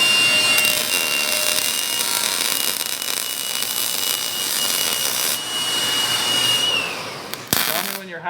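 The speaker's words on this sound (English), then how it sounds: "Weld the whole way. I need that heat in there." Continuous broadband welding hiss and crackle on a car being repaired, steady and loud for most of the stretch before cutting off near the end, with a brief clank after it.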